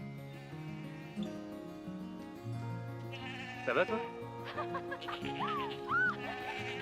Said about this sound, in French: T'es un peu occupé avec les chèvres